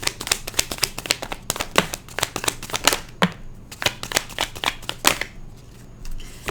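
Tarot cards riffle and slap in a quick, uneven series of crisp flicks for several seconds, loud and close with no talking.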